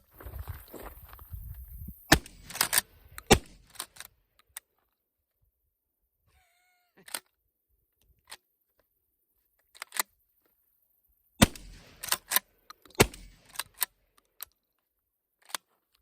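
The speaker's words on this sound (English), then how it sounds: "12 gauge pump action shotgun." A TriStar Cobra III 12 gauge tactical pump-action shotgun fires a series of sharp, loud blasts, several shots with gaps between them, each followed by the clack of the pump being worked, with a quiet stretch in the middle and no talking.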